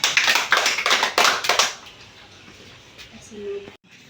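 A classroom of students clapping together during a Filipino demo lesson, a short burst of several sharp group claps that stops abruptly, followed by quieter room sound.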